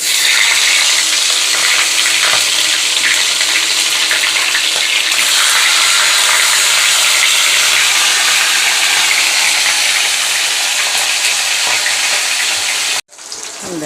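A fish head fries in hot oil in a pan, a dense, continuous crackling sizzle held at a steady loud level for a long stretch before cutting off abruptly near the end.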